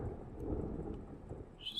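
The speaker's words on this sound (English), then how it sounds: "It's just a storm in Myrtle Beach." Low, rumbling storm noise from a thunderstorm over Myrtle Beach in the flight simulator FSX, a muffled roll of thunder with faint rain behind it, heard inside the cabin of a TBM 850 aircraft for a brief moment.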